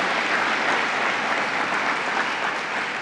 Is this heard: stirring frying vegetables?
no